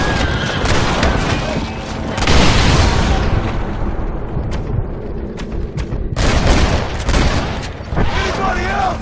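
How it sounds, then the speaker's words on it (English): Loud, close gunfire and booming blasts from a Red Dead Redemption shootout at a roadblock, dense and sustained with heavy bursts throughout and a voice shouting in places. "Stop shooting at me!"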